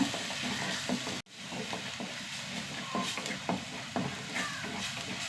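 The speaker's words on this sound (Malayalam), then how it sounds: "അതിലേക്ക് ഒരു തണ്ട് കറിവേപ്പില നന്നായി പച്ചമണം പോകുന്നവരെ ഇളക്കി കൊടുക്കും" Curry leaves sizzle and fry in a pan while being stirred, a steady crackling hiss with scraping spatula strokes, broken by one sharp click and brief dropout near the start.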